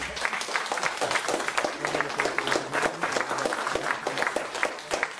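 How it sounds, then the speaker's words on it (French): An audience applauding in an ovation for Grégory Hugues at a gathering in Réunion, steady dense clapping from many hands, sustained and fairly close, with faint voices mixed in. "Je vous demande de faire une ovation à M. Grégory Hugues."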